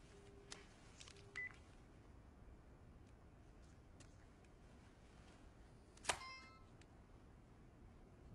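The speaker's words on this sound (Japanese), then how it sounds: "拓也のバイト先に電話しなきゃなって思って" Telephone keypad tones as a number is dialed, a few short tonal beeps spaced apart in a quiet room, faint and brief, with a louder click near the end.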